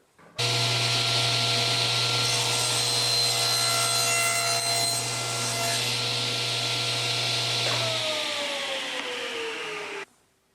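Table saw ripping thin wood stock three-eighths of an inch square for chess pawns, a loud continuous blade whine that starts abruptly, holds for about eight seconds, then winds down and cuts off.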